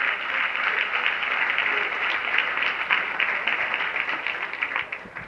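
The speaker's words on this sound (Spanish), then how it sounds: "démosle un aplauso al Rey de la Gloria" Church congregation applauding after being urged to clap for the King of Glory, a steady, moderately distant wash of clapping from many hands that trails off near the end.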